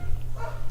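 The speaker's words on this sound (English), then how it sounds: "I know you probably can hear that dog barking in the background" A dog in a Philippine household yaps in short, loud bursts close by, with a steady low electrical hum underneath and no talking.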